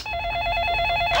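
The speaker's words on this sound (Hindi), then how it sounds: "ये किसी घंटी बजी? ओहो, फोन।" A mobile phone rings indoors with a bright, steady electronic trill that pulses rapidly for about a second before cutting off.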